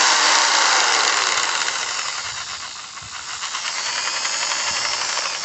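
A Hyper Tough jigsaw runs on variable speed with a loud, continuous hissing motor whine and a fast buzzing vibration. The pitch dips slightly midway before it picks up again, with no voices.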